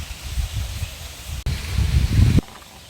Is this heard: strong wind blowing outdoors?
yes